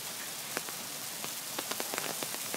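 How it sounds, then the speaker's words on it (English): Hailstones rattle down during a storm while a cyclist pedals home, a steady wash of impacts with sharp individual cracks scattered irregularly throughout, fairly close and with no talking. "Before you get killed by hail"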